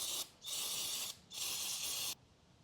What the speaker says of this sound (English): take something like parts cleaner, carb cleaner, or anything along those lines and spray it down